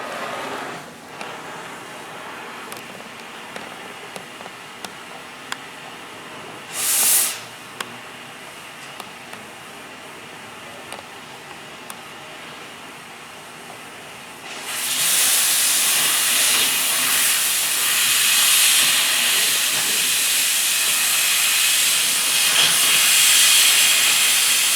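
An oxy-fuel cutting torch cuts through a piece of metal. A low background hiss and a brief burst come first, then a loud, steady roaring hiss takes over partway through and holds to the end.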